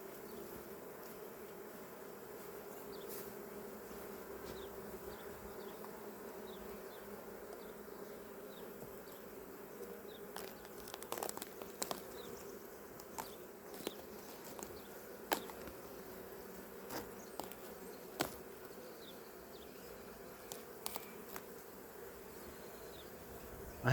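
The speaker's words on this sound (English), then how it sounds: "there's a lot of bees there on top" Honey bees buzzing on top of the frames of an opened hive at a first spring inspection, a soft continuous hum with faint intermittent ticks and knocks, no voices.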